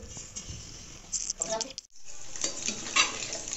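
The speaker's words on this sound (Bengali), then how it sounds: "এবার আমি পকোড়াটা ভেজে নেব।" Gram flour and onion pakoras frying in hot oil, a close, steady sizzle with crackling bursts and some stirring sounds throughout.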